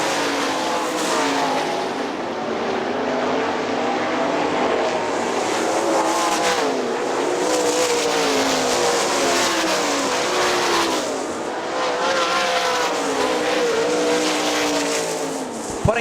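Sprint cars race at Hartford Speedway Park in a Great Lakes Outlaw Sprint Series event, their engines roaring loud and steady as the pack sweeps past, with pitch rising and falling through the turns.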